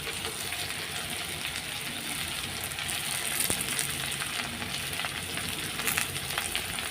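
Shrimp and potatoes fry steadily in a pan for a curry with greens and papaya, a dense, even sizzle holding near and loud throughout, with a few faint clicks and scrapes mixed in.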